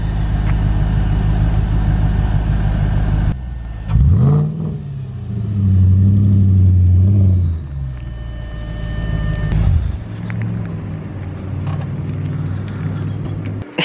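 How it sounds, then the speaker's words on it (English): An Audi A5 car is driven and parked, its engine rumbling close by with revs that rise and fall, one strong surge in the middle and a steady idle-like hum around it, with no talk. "now we're gonna be parking this Audi right here"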